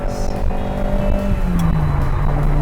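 A Ferrari 308GT4 engine in a VR driving game revs hard and continuously, loud and close, its droning pitch sliding downward as the car shifts gears.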